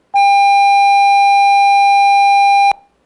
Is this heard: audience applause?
no